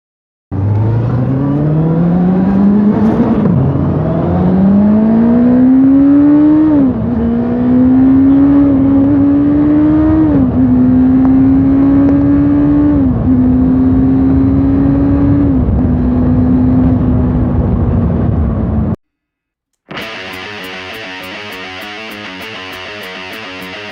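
A loud Honda CBR 650F motorcycle with an aftermarket CS Racing exhaust accelerates hard through several gears in a tunnel, its pitch climbing then dropping at each shift, before abruptly cutting off.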